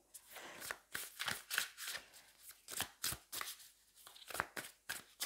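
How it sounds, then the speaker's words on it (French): High-quality tarot cards being shuffled by hand, a close, crisp series of riffling and flicking bursts in an irregular rhythm, one quick shuffle after another, with no voices over it. "Écoutez le bruit qu'elles font quand on les mélange."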